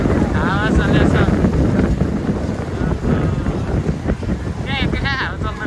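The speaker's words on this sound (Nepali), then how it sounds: "हावा चलेको छ" Strong wind roars across the microphone on a boat heading toward Niagara Falls, a steady loud rush with voices calling out over it.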